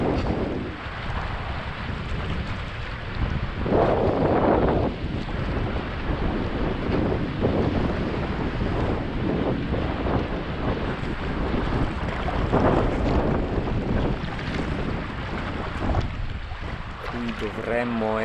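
Strong wind roars across the microphone at sea during a sea-kayaking trip, a dense continuous rushing with gusts and surges and water splashing along the coast.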